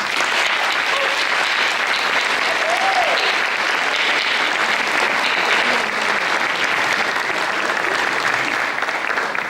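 A graduation audience applauds faculty and staff at a college campus ceremony, dense and loud clapping that fills the hall steadily throughout.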